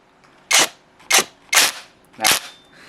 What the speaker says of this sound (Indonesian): ini kita lihat di sini sudah ada sebuah sekrup dan kita tembak